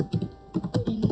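Computer keyboard keys are typed in short bursts while a command is entered on a Linux server, with rapid clustered clicks, brief pauses and a few firmer keystrokes, close and fairly quiet with no talk.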